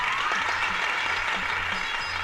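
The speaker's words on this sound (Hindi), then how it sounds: "इन तालियों से काम नहीं चलेगा।" Applause from a crowded audience at a magic show on stage, dense and continuous clapping filling the space at steady volume throughout.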